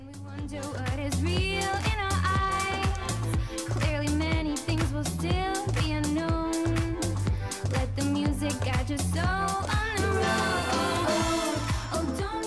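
Tropical rhythm music played by a Guadalajara band, with a steady driving beat, bright percussion hits and melodic lines throughout, full and continuous with no talking over it.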